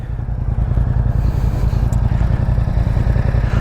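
Yamaha MT-07 parallel-twin motorcycle with a Yoshimura R77 exhaust and DB killer installed, running close up with a deep, steady, throbbing idle rumble after starting, with no voices.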